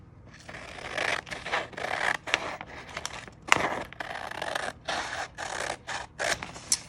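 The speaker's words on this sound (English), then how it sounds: "I'm gonna have to trim it off a little bit more on the bottom here" Scissors snip through thin tracing paper while trimming a bag's bottom edge, a run of short close crisp cuts in irregular bursts with brief pauses, no talk.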